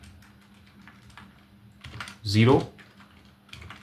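Computer keyboard keys click in scattered taps, with a short burst of speech in the middle.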